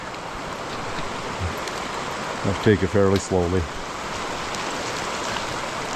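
A creek runs steadily beside an overgrown, steep hiking trail near McBride, British Columbia, a constant broadband wash of flowing water; someone speaks briefly over it midway.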